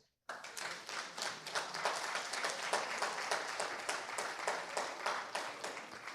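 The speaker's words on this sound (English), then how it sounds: "those whose vision made this remarkable series possible deserve a tremendous round of applause" An audience at a documentary series event breaks into sustained applause that starts abruptly after silence, with dense rhythmic clapping holding steady to the end.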